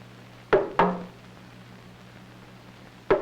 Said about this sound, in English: It can also be said by a drum that can beat both high and low sounds.